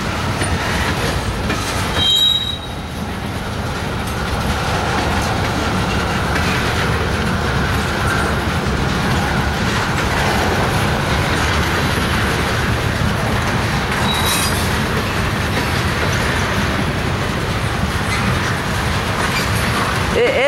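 A CSX manifest freight train rolls steadily past near Cincinnati, Ohio, its wheels and cars giving a continuous loud rumble with brief squeals, heard up close for the whole stretch.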